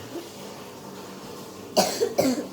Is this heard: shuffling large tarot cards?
no